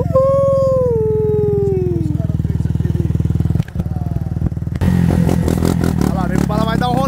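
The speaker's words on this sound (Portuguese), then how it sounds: "Agora ele vai regulando, andando na moto." A 160 cc motorcycle engine revs loudly and steadily while being tuned as it rides, its pitch sweeping down early on, then settling into a rough, pulsing idle-like drone with clatter.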